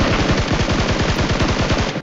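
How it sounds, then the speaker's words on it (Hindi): Rapid automatic gunfire in a video game, a steady burst of loud shots at an even fast rhythm, close and continuous for about two seconds with no talk. "लेकिन तभी सामने से फायरिंग होती है"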